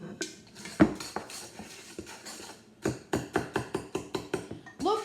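Dry mix of flour, sugar, cinnamon and nutmeg stirred in a bowl, a run of close, rhythmic clinks and taps of a utensil against the bowl, with brief pauses between strokes.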